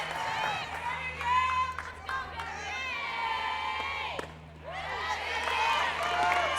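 A crowd at a women's college softball game cheers and claps for a batter on her senior day, a continuous swell of shouts and applause, with a commentator talking over it.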